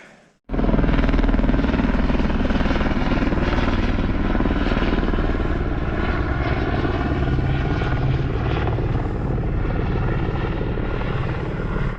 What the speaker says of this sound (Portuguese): O helicóptero tá chegando.